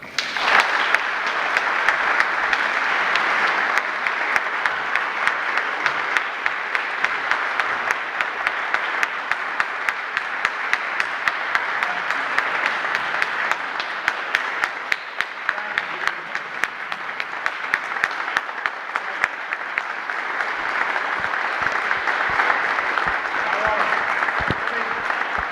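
A crowd at the Old Capitol Museum applauds Governor Haley Barbour, a long, even roll of many hands clapping that holds steady from start to finish, fairly close and unbroken, with no talk over it.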